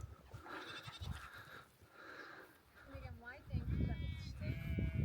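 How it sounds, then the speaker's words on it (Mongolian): Sheep bleating at close range on a summer pasture in Arkhangai, Mongolia, with several wavering calls in the second half over a background of outdoor noise and some talk. "Энэ одоо хонь маань тоохгүй"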